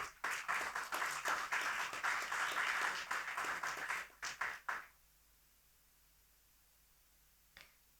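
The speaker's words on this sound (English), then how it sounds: "A round of applause, please, everyone" Audience applause at a cyber security panel discussion as panelists are called to the stage, a brisk round of clapping that thins into a few scattered claps and stops near five seconds, then quiet with one faint tap.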